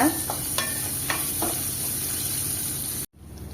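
Small onions fry in a pan while being stirred for a golden colour, a steady hiss broken by several sharp spoon scrapes before the sound cuts out abruptly near the end.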